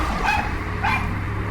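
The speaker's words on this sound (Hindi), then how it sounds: "वो उस लबूबू डॉल को देखकर बहुत जोरों से भौंकने लगा" A dog barking loudly, two sharp yippy barks about half a second apart over a low rumbling background, with no talking.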